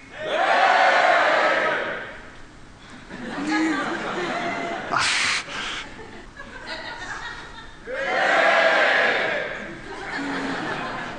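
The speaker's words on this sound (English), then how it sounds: "how about if everyone over there shouts?" A lecture audience shouts together on cue in bursts, with loud crowd cries rising and fading twice alongside laughter and chatter.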